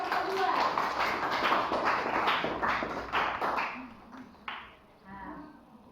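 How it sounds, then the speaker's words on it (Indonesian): A classroom of students claps for group 2 after a math answer, a burst of brisk overlapping hand claps that thins out and stops, followed by a voice. "Tepuk tangan dulu untuk kelompok 2."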